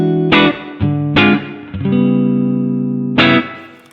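Electric guitar played through an amp-in-a-box pedal into a guitar amp, with three short chord stabs followed by two longer ringing chords, a driven tone heard alone.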